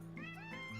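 Cat meows within a song, a couple of short wavering meow-like tones riding over sustained low musical notes, faint and brief.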